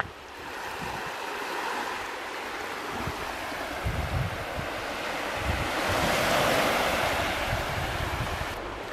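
Waves of an incoming tide wash onto the Pembrokeshire coast, a steady surf roar that swells toward the end, mixed with wind buffeting the microphone, with no talking.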